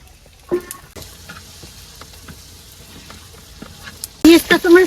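Onions and green chilies frying in oil sizzle faintly in a village kitchen, with scattered soft utensil clicks, then a sudden loud burst of bright sizzling and clattering near the end.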